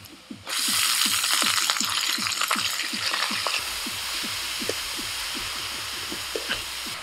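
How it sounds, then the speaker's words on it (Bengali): Onion and garlic fry in a pan as fresh coriander leaves go in, a steady close sizzle with many short scraping, clicking stirs of a spatula repeating through, loud and alone without talk. "পেঁয়াজ আর রসুন ভাজা হয়ে গেছে, এখন এর মধ্যে দিয়ে দিচ্ছি ধনে পাতা"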